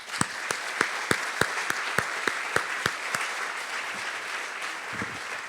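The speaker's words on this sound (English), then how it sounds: "Please give a round of applause for you amazing adults." Audience at a scholarship awards ceremony clapping steadily in a hall, a mix of many hands with a few sharp individual claps standing out in a regular rhythm, no talking over it.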